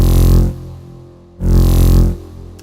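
A bass synth patch with phase modulation plays two sustained, buzzy notes that are loud and close. Each note has a growling, cat-like snarl, and a short quiet gap separates the two notes.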